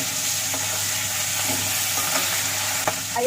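Katla fish pieces fry in oil, a loud, dense, close sizzle that runs throughout, with occasional clinks and scrapes of stirring.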